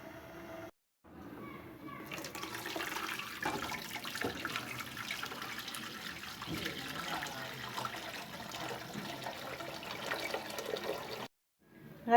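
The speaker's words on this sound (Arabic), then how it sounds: "وغنضيف ليهم الماء اللي ديجا غليان" Boiling water is poured into a pot of onion, oil, salt and pepper to make oat soup. A steady, splashing stream runs for several seconds, with faint talk underneath.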